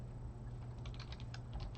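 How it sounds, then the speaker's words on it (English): Fingers tap rapidly on a computer keyboard, a quick run of light clicks close to the microphone over a low steady hum, with no voices. "I'm just typing dumb things."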